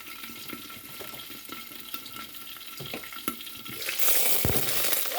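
Smoked mackerel frying in a pan, a steady close sizzle with occasional clicks and stirring, growing louder and hissier toward the end.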